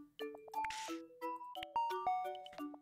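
A doorbell-style chime from the Tomodachi Life video game, a bright sequence of clear electronic ding-dong tones played close and alone.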